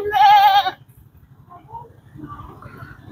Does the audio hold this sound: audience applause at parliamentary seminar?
no